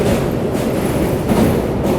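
Intercity train running alongside on a parallel track over a railway bridge, a steady loud rumble of wheels and carriages with faint rhythmic clatter throughout, no voices.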